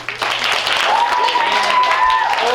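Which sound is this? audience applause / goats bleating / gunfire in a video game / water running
audience applause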